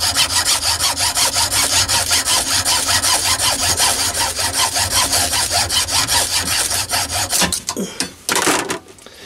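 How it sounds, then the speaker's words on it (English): A ferrous rod is sawn to length by hand, with loud, steady, rhythmic rasping strokes that continue for most of the clip before slowing into a few uneven final strokes. "So now I can saw the ferrous rod to length."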